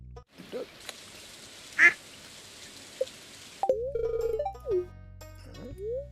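Ducks quacking in the Stardew Valley farming game, a few short synthetic quacks over a steady game ambience, followed by tonal menu chimes and beeps.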